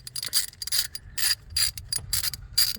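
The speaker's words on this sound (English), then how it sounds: "I just tighten down a little bit at a time" A ratchet tightens the fuel rail screws on a 2013 Buick Regal Turbo, clicking in quick close bursts of pawl ticks separated by short pauses, loud and alone with no talk.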